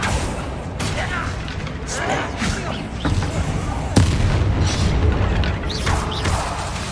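Fire-blast Confringo spell explosions in the Hogwarts Legacy video game, heavy booming blasts and crashes repeating in a dense, continuous battle mix with a sharp impact near the middle, under a speaking voice.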